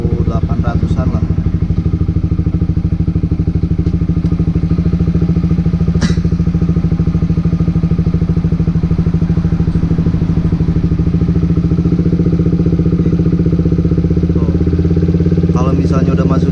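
A motorcycle idles in neutral at about 1800 RPM, a steady, close, loud thrumming putter that holds an even pace throughout while someone talks over it.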